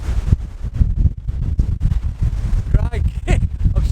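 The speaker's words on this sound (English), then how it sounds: "You probably can't even hear me over this wind now. It's really picking up." Strong wind blowing on a beach buffets the microphone in loud, rough gusts, with someone talking over the roar.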